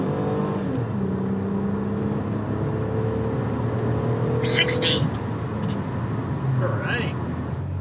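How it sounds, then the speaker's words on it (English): A third-generation Toyota Camry with a 3.0-litre V6 and 261,000 miles, on worn tires over wet pavement, accelerates hard from a standstill to 60, its engine note rising steadily through the gears as a continuous close drone. "we have the powerhouse 3-liter V6 engine, which made around 188 horsepower and did the 0 to 60 in about 8 seconds."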